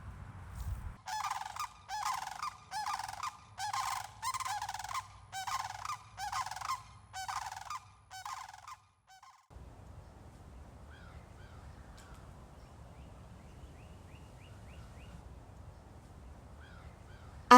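Sandhill cranes give a run of loud, rolling bugling calls, repeated in a steady rhythm for several seconds up close, then give way to quiet outdoor ambience with faint distant bird calls.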